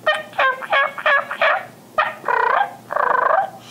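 A hunter's turkey call imitating gobbling, heard as several loud, rapid rattling bursts close by, with short pauses between them and no talk over it.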